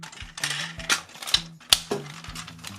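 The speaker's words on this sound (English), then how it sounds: "Nice clickety ratchets." Hello Carbot toy robot being transformed, its plastic ratchet joints giving sharp, dry clicks in quick bursts of several at a time, close and fairly quiet, with no talking.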